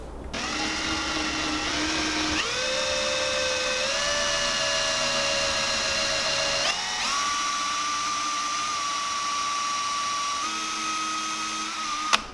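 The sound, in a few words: drill boring a hole in wood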